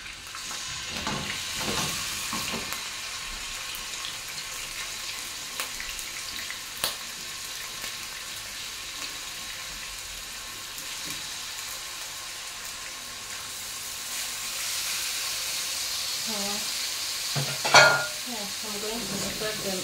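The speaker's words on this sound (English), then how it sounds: "My pan was already hot. Yeah, so we're going to just fry them a little bit." Chicken breast pieces fry in an already hot pan with a continuous, close sizzle, stirring and shuffling throughout and a brief louder clatter near the end.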